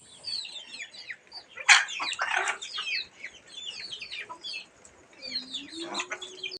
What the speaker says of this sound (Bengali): মুরগিগুলো বাড়িতে এসেছে, মুরগিগুলোকে খাবার দেই।